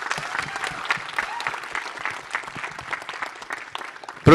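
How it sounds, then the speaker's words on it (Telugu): Audience applause at a film pre-release press meet, scattered and sustained clapping at moderate loudness lasting several seconds before a sudden louder burst at the end. "she needs a big round of applause"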